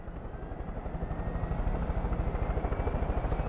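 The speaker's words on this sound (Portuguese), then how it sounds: "Vamos pilotar esse helicóptero aqui, show." Steady helicopter rotor chop in the video game Far Cry 5, a fast rhythmic thumping that swells slightly louder and continues throughout, with no voices.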